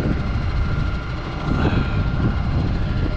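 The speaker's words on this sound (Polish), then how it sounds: "ależ wieje." Strong wind roars across an open potato field, a steady low buffeting rush that swells slightly midway, loud and close with no voices.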